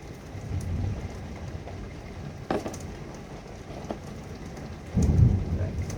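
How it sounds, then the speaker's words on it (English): Heavy rain pours steadily and loudly throughout, a dense broadband wash with a brief thunder-like rumble near the middle and a louder surge of downpour near the end. "the rain's so loud, you can't even hear the music"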